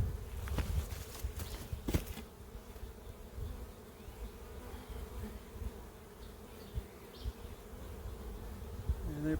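Honey bees buzz steadily and densely in an open hive, a continuous low drone with occasional sharper knocks and handling noises near the start.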